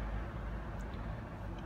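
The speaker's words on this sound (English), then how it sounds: "Sorry for the background noise, car noise." Steady, low rumble of car traffic in the background, passing continuously with no distinct vehicles standing out and no one speaking.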